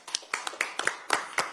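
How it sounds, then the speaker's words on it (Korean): Clapping at a Democratic Party recruitment press event, a handful of sharp, separate claps in an uneven rhythm, close and fairly clear rather than a dense crowd ovation. "새로운 출발에 힘찬 박수를 보냅니다"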